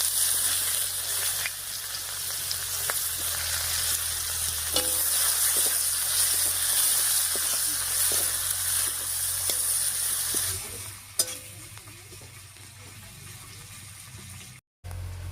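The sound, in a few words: chopped onion frying and stirred in fish-frying oil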